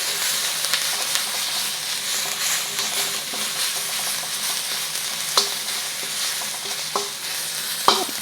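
Beef stir-frying in a hot pan for crispy Mongolian beef, a steady close sizzle with stirring scrapes and a few sharp utensil clicks near the end, no voices.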